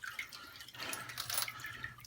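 Water rinsing stainless steel tumbling media through a Dillon sifter, a steady trickling and splashing wash with small metallic patters as the pins fall through, fairly close and without talk.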